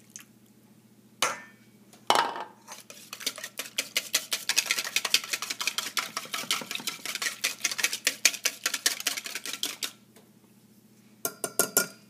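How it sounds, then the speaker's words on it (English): A wire whisk beats milk into a bowl for French toast, a fast run of rapid metallic clicking and tapping against the bowl that stops and restarts, with a couple of louder knocks at the start. "Add 1/4 cup of milk and stir with the whisk."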